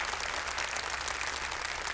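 Studio audience at a televised Quran recitation competition applauds in a steady, dense wash of clapping that stays even and fairly loud throughout, with no voices.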